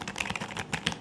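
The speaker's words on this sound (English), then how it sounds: "This is the sound of a mechanical keyboard is what is firstly admirable." Fast, steady typing on a Logitech 512 mechanical keyboard, with close, crisp clacky keystrokes rattling out in a quick continuous run.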